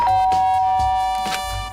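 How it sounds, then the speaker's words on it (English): A doorbell in the video game Danganronpa: Trigger Happy Havoc sounds a bright electronic ding-dong chime, one clear two-tone ring that fades out with no talking over it. "I pressed the doorbell."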